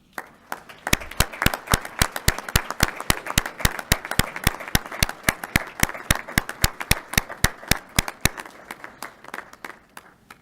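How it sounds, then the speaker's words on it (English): A commencement audience claps in appreciation of graduates' families and friends, a sharp run of distinct, closely spaced handclaps with a faint crowd murmur beneath, fading out near the end. "show your appreciation for all they've done for you by a round of applause to them."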